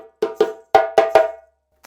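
Five sharp djembe strokes from the Guinean rhythm Fakoly, two open tones then three slaps in quick succession, close and loud, ending with a faint tap.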